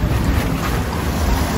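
Strong sea wind roars and buffets the microphone in a continuous, rumbling rush with no voices, on a pier in Sopot in the evening.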